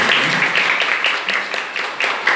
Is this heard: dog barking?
no